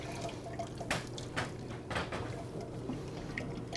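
Chocolate ice cream mix pouring into the wide fill mouth of an ice cream machine, a steady liquid trickle with a few louder splashing drips over a constant mechanical hum.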